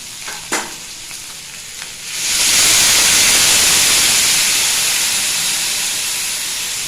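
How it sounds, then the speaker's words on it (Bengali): Snail curry is stirred quietly in a pan with a couple of soft clinks, then water hits the hot pan and a loud, steady hissing sizzle of steam takes over and slowly eases. "নাড়াচাড়া করে এবার জল দিয়ে দেবো।"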